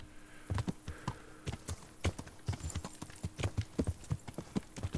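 Horse hooves clip-clop steadily beneath a rider in Kingdom Come: Deliverance, a close, rhythmic walking gait of many evenly spaced thuds over low ambient noise.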